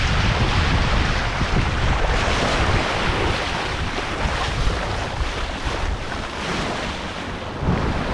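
Open-sea waves wash against a sailing boat under sail, a dense, continuous rushing and sloshing mixed with steady wind noise, loud and close with no talk.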